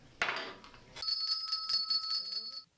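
A handheld bell in a morning-show radio studio is struck once after a short clattering noise, its clear bright tone ringing and sustaining for about a second and a half before cutting off.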